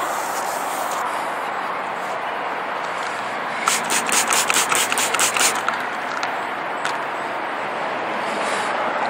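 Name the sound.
wet sanding car paint on a 1995 Mercury Grand Marquis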